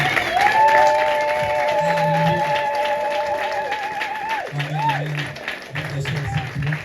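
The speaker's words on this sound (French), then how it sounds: "Acclamons plus fort pour Jésus" A church congregation at a Sunday service applauds and cheers for Jesus, steady clapping and crowd noise filling the room throughout, with sung or shouted voices rising over it.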